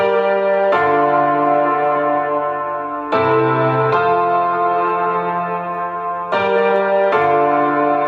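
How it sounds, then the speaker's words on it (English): Slow piano chords ring out one after another, each struck loudly and left to sustain with a bright, reverberant tone. "And I played the piano, which goes like, sounds like this."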